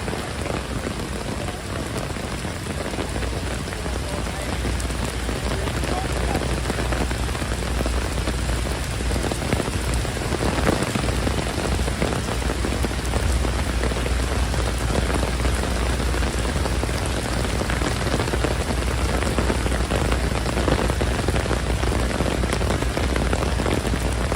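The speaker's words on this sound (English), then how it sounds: "the pouring rain in Manhattan." Heavy pouring rain falls on surfaces in Manhattan near the Chrysler Building, a dense, steady hiss of drops that continues without pause for the whole stretch, with no voices.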